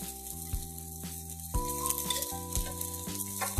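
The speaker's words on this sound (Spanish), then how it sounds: "Y ahora ya ponemos este solomillo. Le vamos a dar un golpe de brasa fuerte." Pork tenderloin sears in a hot pan with a loud, constant sizzle and crackle, with occasional clanks of a utensil over a background hum in a home kitchen.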